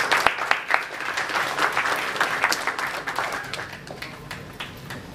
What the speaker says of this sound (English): A round of applause for the great Jorge Arce.